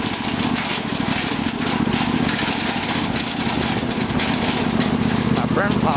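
Craftsman II lawn tractor engine running steadily while driving through the woods, a loud, constant mid-pitched drone that stays close and unbroken.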